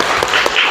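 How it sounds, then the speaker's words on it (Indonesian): A class of children applauds together briefly, producing a dense burst of clapping close by. "kita beri tepuk tangan untuk kita semua ya"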